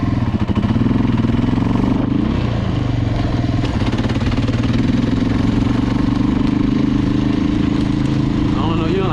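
Suzuki LTZ400 ATV engine revs loud and close, rising and falling with throttle changes as gears are shifted, with a steady running drone throughout and talk over it.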